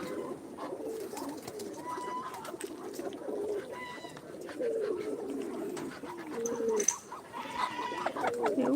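Pigeons coo repeatedly on a farm, close and fairly loud, with soft clucking fowl mixed in and low background bustle, with no talking.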